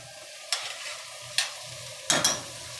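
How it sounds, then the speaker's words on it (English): Vegetables sauté in a pan; three brief scraping bursts of stirring stand out over a quiet, steady background. "we've got the vegetable sauteing"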